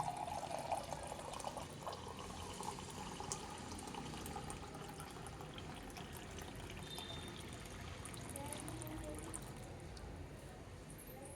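Water is poured from a glass into a kadai for boiling country chicken, a soft continuous splash under a speaking voice.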